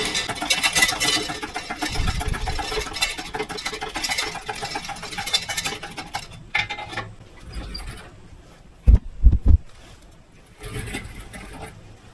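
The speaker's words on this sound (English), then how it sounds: "It's the turbo mount flex pipe that's allowing this thing to beat on the subframe." On a car with a turbo conversion, a loose turbo mount flex pipe hits the subframe. A clattering mechanical running noise is followed by a few sharp, close knocks in a quick cluster, then quieter rattling.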